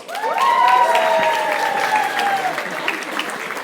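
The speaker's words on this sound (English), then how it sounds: "Position number 2, round of applause for Jess." Audience applause at a wedding-day quiz night as a placing is announced, a sustained burst of clapping with cheers and whistle-like calls rising at once and carrying steadily before easing slightly.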